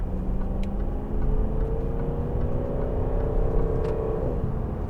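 A 2012 Range Rover with a TD V8 diesel accelerates, giving a steady, close engine drone with a gently rising tone, alone without speech.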